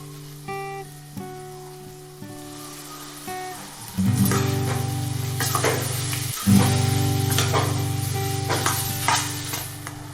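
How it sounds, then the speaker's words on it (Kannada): Chicken fries in a pan with chicken masala powder and pepper for a pepper dry roast. A steady, close sizzle starts a few seconds in and is briefly broken by stirring, after softer clinks at the start. "ಅದನ್ನು ಫ್ರೈ ಮಾಡ್ತಾ ಬನ್ನಿ."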